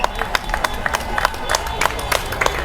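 An outdoor rally crowd cheers and applauds, with scattered sharp claps and whoops over a steady roar of voices, moderately loud and continuous.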